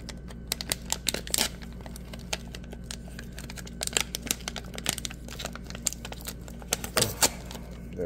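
Plastic packaging of sugar-coated cannabinoid gummies is torn and opened close by, giving sharp irregular crinkles and snaps over a steady low hum, with no talk.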